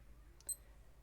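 A Skmei 1628 digital watch gives a single short, faint electronic beep as its start button is pressed to begin the timer, heard close up and quiet, with no voices.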